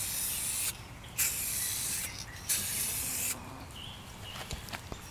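Aerosol spray can coating a car headlight, heard as several close bursts of hissing spray separated by brief pauses, the last one longest and followed by faint handling noises.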